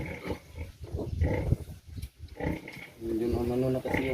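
Sow lying with her nursing piglets, giving repeated low grunts and snorts in a pig pen, with a person talking over much of it and a steadier voiced tone near the end.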